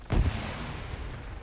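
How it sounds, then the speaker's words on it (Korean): A single heavy explosion booms in the military shooter ARMA 3, hitting hard at the start and then rolling into a long, fading rumble with no other sounds over it. "야 근데 왜 폭발물이 여기 왜 터지냐?"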